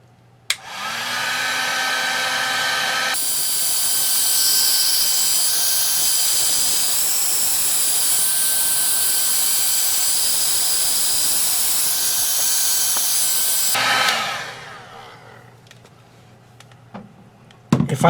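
A heat gun blows hot air over speaker wire: a loud, steady, roaring whoosh starts up, holds evenly for about eleven seconds, then cuts off, followed by light handling noises.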